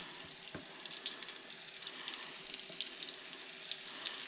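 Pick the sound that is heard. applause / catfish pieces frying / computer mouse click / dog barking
catfish pieces frying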